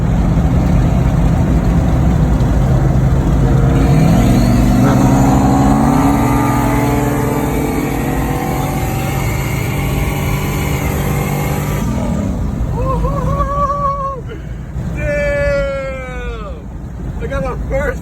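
A tuned Chevy Tahoe engine accelerates hard in a night street race, a loud continuous roar that climbs steadily in pitch, ending in rising and falling whining sweeps as the vehicle pulls away.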